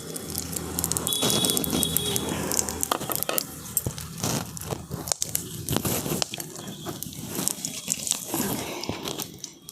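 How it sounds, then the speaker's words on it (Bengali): Cardamom, cloves, peppercorns, whole cumin and two dried red chillies crackle and sizzle in hot oil for a shyama rice khichuri. The close, dense popping and spitting continues with sharp bursts throughout. "এগুলো আমি ফোড়নে দিয়ে দিচ্ছি।"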